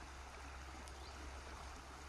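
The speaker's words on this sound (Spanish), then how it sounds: "el sonido del agua" A natural stream flows with a steady, close rush of water, even and unbroken throughout.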